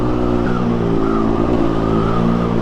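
A Triumph Speed Triple 1200 RS with a Pro-Race GP-R3R exhaust rumbles close by, holding a loud, steady engine drone with slight pitch shifts as the revs change.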